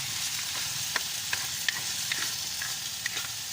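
Mud crab and mixed vegetables stir-fried in a pan for breakfast, giving a steady close sizzle broken by light clicks and scrapes of a stirring utensil.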